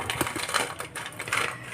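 Crisp, dense rattling and crackling of crunchy Andhra-style fried chicken pakoda being tossed, continuous and close, with no voices.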